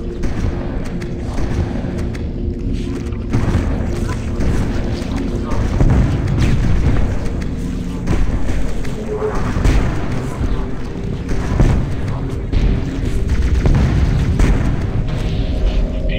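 Halo CE combat on The Library level: heavy booming thuds and explosive blasts from enemies blowing up at close range, dense and loud over rumbling gunfire and game noise throughout.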